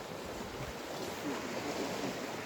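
Steady wash of sea waves and surf with wind rumbling over the microphone, continuous and fairly loud, no voices.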